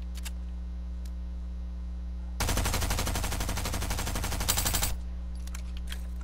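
A Stinger gun fires in a video game as one rapid continuous burst of closely spaced shots lasting about two and a half seconds, loud against a low steady hum before and after.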